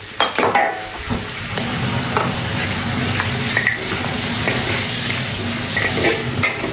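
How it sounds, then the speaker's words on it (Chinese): Food sizzles steadily in a pan over the lowest heat while a Sichuan spicy dish is cooked, with a few utensil scrapes and stirring clinks near the start. "开最小的火，慢慢的给它煎制，煎一下，煎入味儿更香一点点"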